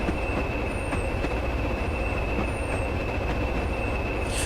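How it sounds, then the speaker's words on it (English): A heavy coal train hauled by a Class 20 runs downhill on the Weardale and Teesdale line in Train Simulator, giving a continuous loud rolling rumble with a steady high wheel squeal and faint rhythmic clicks, with no voices. "a heavy coal train going downhill, what could go wrong?"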